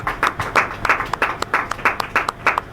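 A church congregation claps in a steady, rhythmic beat, with many hands striking together at a moderate distance, fairly quiet and without talk.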